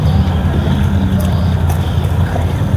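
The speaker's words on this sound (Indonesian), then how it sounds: "motor air tambang itu khusus penumpang yang mau nyebrang ke sana, ke Siantan itu" Engine of a motor air tambang, a small passenger ferry crossing the Kapuas River in Pontianak, drones as a low steady rumble close by with water noise and no clear voices.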